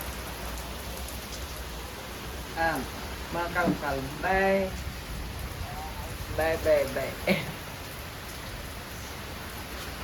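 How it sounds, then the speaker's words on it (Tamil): Heavy rain pours steadily on a Tamil temple visit, a continuous broadband hiss throughout, with a few voices talking briefly over it in the middle. "நல்ல மழைல"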